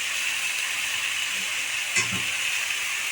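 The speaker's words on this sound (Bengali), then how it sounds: "পানিটা দিয়ে দিলাম" Water poured onto frying spice paste for a prawn and vegetable curry sends up a steady, close steam hiss and sizzle, with one brief bubbling flare midway.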